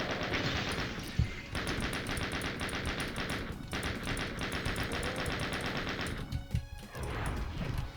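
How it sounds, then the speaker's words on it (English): Rapid, continuous chaingun fire in the video game Doom II, a dense stream of loud automatic shots running almost the whole time amid game combat noise, with a heavier impact near the end. "Just finish them off with the chain gun."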